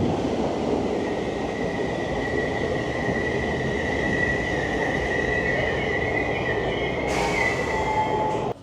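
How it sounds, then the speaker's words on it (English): A Merseyrail Class 507 electric multiple unit pulls away from Bank Hall station, heard from on board as a steady rumble of wheels and motor with a rising whine and a sharp squeal near the end, no talking. "So we're currently on Merseyrail Class 507, 507018, and the station I'm just departing is Bank Hall"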